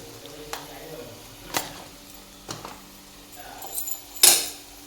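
A spoon stirs a corn dish in a pan, making sparse scrapes and metallic clinks against a quiet, faint sizzle, ending with one sharper clatter.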